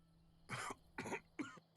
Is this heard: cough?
yes